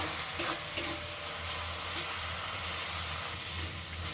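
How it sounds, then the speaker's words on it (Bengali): Spice paste sautéing in a pan for dal palong, a steady hissing sizzle with a low hum beneath and two brief clinks of a spatula early on, close and with no talking. "খুব ভালো করে কিন্তু মশলাটা কষিয়ে নিতে হবে।"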